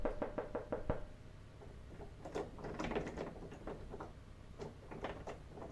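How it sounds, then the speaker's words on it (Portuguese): Knocking on a door opens with a quick, loud series of about six raps, then continues as fainter, scattered knocks under a steady background noise. "tem alguém batendo na porta"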